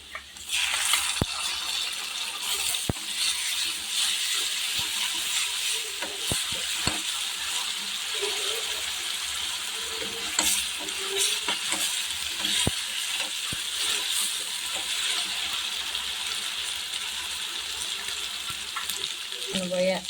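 Ginger garlic paste sizzles and fries in a pan with chicken, chilli and turmeric, a soft continuous hiss broken by scattered stirring clicks and scrapes, with faint water-like trickling underneath.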